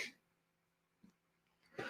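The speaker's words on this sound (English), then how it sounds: "Sorry if I coughed into the microphone there for you headphone wearers." A person coughs close into a microphone, a brief harsh burst at the start and another at the end with a faint throat sound between, very quiet overall.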